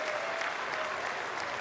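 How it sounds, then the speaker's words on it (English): Texas fans give a steady round of applause at a college baseball game, a dense wash of clapping from a crowd that carries evenly through the short moment. "Nice round of applause and a good gesture right there by Augie Garrido and the Texas fans."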